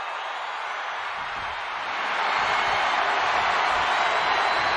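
An arena crowd in the wrestling video game WWE 2K24 roars in a broad, steady wash of noise that swells louder partway through.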